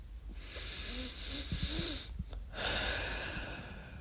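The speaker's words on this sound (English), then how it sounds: "now do some nice deep breaths again" Deep, slow breaths taken during a guided relaxation exercise, with airy inhales and exhales and a couple of soft nasal snorts, close and fairly quiet over a faint background hiss.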